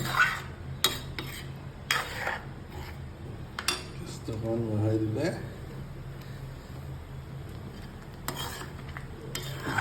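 Kosu (taro) being stirred in a pan on a gas stove, with repeated scraping and clinking of the utensil against the pan over a soft low sizzle, while someone talks throughout.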